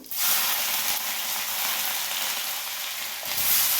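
Mustard seeds, cumin and dry red chillies fry in hot oil, giving a steady, dense sizzle that stays loud and close throughout, with a brief swell near the end and no voices.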